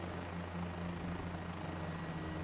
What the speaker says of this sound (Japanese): でヘリコプターも今ストレートの方へ目指して飛んでるんですけどね